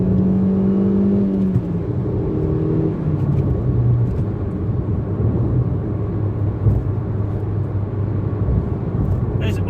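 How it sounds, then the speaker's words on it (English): A small car engine revs and shifts through gears, the pitch rising and falling as it accelerates, with a constant rumbling drone. "Drop it down, get your revs up, get your space, and off you go."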